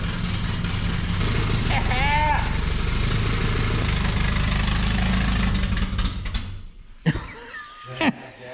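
An old 1974 Datsun 620 pickup truck engine idles with a steady low rumble and rattle, then cuts out near the end, leaving brief voices and quieter sounds.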